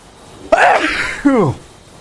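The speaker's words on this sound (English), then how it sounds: "You can just enjoy the sneeze." A loud, close human sneeze bursts out with a sharp intake and explosive release, followed by a brief trailing vocal exhale.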